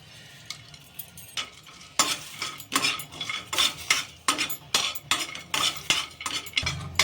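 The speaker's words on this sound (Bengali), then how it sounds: "এটা শুকনো খোলায় আমি ভেজে নিচ্ছি এটা গুঁড়োবো" Spices dry-roasting in a pan for shrimp rice, with a utensil scraping and stirring in steady, rhythmic strokes and a soft sizzle underneath, close and without talk.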